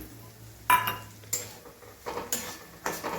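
A bowl of semolina tipped into hot ghee in a pan for Goan sheera: a few clattering bursts of metal utensil against pan, then scraping stirs with a soft hiss, close and moderately loud.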